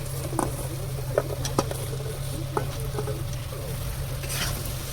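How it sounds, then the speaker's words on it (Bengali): Potatoes and green chilies fry in spiced oil with a steady close sizzle, joined by occasional clinks and scrapes of stirring, with no talk. "আলুটা একটু ভেজে নেব, ঠিক আছে।"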